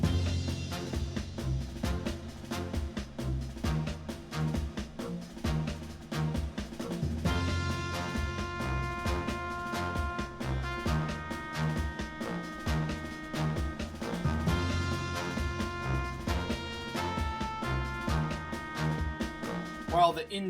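Orchestrated video game music from the Sonic Adventure era, a soundtrack piece, playing steadily with layered sustained melodic lines over a continuous rhythmic bed, no talking.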